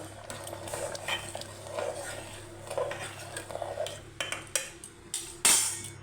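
Rice pudding sweetened with sugar is stirred in a pot with a metal spoon. The scraping is soft and continuous, with scattered clinks against the pot and a sharper knock near the end.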